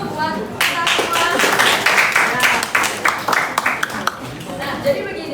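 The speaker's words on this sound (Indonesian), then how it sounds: "Aplaus dulu buat kita semua" A classroom group claps together in a burst of applause, a dense flurry of hand claps that tapers off into scattered individual claps, close and lively.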